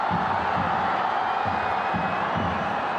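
A stadium crowd at a football match between China's under-20s and Australia's Young Socceroos rises in a continuous, moderately distant roar of cheering, with scattered louder shouts and whoops swelling within it.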